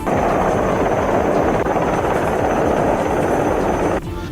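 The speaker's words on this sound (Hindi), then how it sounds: "थोड़ी ही देर में हेलीकॉप्टर समंदर में जहाज के पास मंडराता देखा।" A helicopter hovers over the sea near a ship in strong winds during a captain's airlift, a loud steady rotor chop droning close and continuous before cutting off abruptly at the end.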